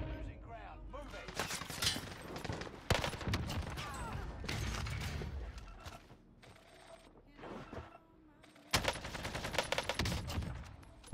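Rapid bursts of automatic gunfire and scattered shots ring out in Call of Duty on Rebirth Island, loud and dense at first, easing off, then flaring up again with mechanical clatter mixed in.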